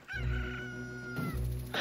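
A crow calls in Zelda: Ocarina of Time 3D, a single loud, drawn-out tonal cry lasting over a second, heard alone and close with no talking.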